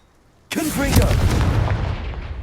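Confringo fire spell in Hogwarts Legacy: a sudden loud blast cuts in after a quiet start, then a roaring, crackling burst that slowly fades over about two seconds.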